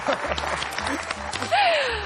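A studio audience at a Georgian game show bursts into short applause close by, with a voice speaking over the clapping and a light chuckle.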